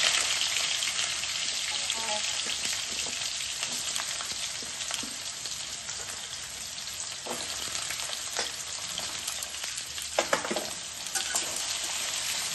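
Potato and carrot pieces fry in hot oil for a vegetable khichuri, a dense continuous sizzle close by, broken by occasional clicks and scrapes of stirring and no talking.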